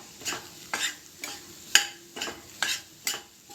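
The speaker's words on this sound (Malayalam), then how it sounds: "ഇനി നല്ലവണ്ണം ഇളക്കി കൊടുക്കുക." Snake gourd thoran frying in a pan is stirred in a steady rhythm, about seven distinct scraping strokes spaced roughly half a second apart over a soft, quiet sizzle.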